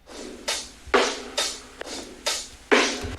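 A breakbeat drum loop plays alone, punchy kicks and crisp snare hits in a syncopated, repeating pattern, loud and dry with short gaps between hits.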